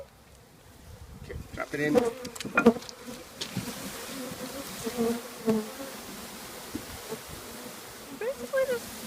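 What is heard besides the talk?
bees being poured into a hive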